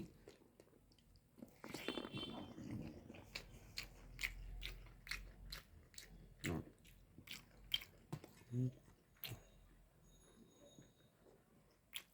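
Someone chewing a mouthful of rice with bata fish, a boneful fish: close, soft wet bites and squishy mastication in an irregular rhythm, with small crunchy clicks, fairly quiet and without talk.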